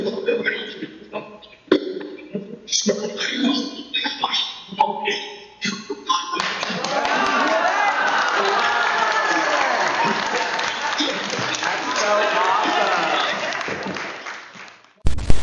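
A small group claps together after several seconds of scattered taps and knocks in a quiet room, the applause then rising into a steady, moderately loud burst before it stops abruptly.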